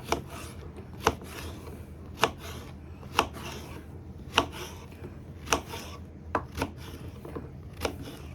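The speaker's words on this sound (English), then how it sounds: "then just chop them into like bite-sized pieces" Knife chopping squash into bite-sized pieces on a board, about ten crisp close thunks at a steady, unhurried rhythm roughly once a second.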